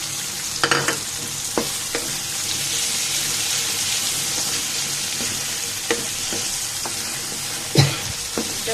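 Whole garam masala, with cinnamon, cardamom, bay leaf and cloves, sizzles in hot oil in a pan, a loud and continuous hiss broken by scattered clicks and scrapes of stirring, with no voices.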